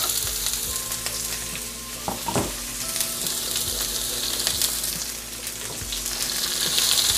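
Chopped onions sauté in a Ninja Foodi after spluttered spices, giving a loud, steady sizzle with stirring scrapes and a low appliance hum underneath, while making sambhar.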